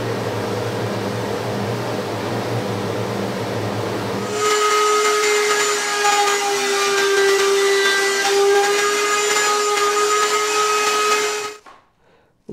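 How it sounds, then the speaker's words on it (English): Wood router cutting along the edges of a wooden bracket, a loud steady high-pitched whine with a tonal scream that holds for several seconds before cutting off near the end; no talking. "Routering all edges of the part makes it a much nicer, smoother look"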